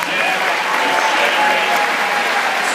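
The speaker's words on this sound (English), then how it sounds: "let's have a massive round of applause for the rest of the MLTI team" Steady, dense applause from a large conference crowd at a closing ceremony, loud and continuous throughout with no pauses.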